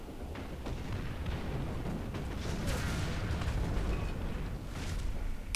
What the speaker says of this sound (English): Those guys down there can see me. Oh, and they're shooting me.